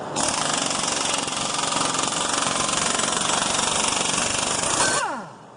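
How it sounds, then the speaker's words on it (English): A threaded puller working a worn ball joint out of a vehicle makes a loud, dense rattling hammer-like burst that holds steady for about five seconds and then stops abruptly. "we're going to take this ball joint out of here"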